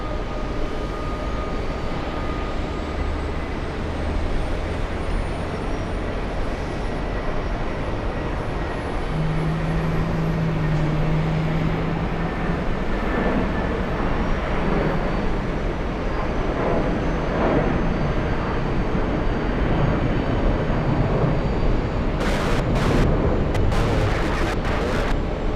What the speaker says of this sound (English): We have an arrival on 22 left. Here we go. It's a big one. A Speedbird flying in from Heathrow.